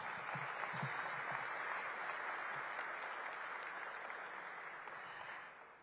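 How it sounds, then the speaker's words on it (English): Sustained crowd applause at a groundbreaking ceremony for the Capital One Arena redevelopment in Washington, DC, steady clapping throughout with no talk over it, slowly fading toward the end. "Give them a big round of applause."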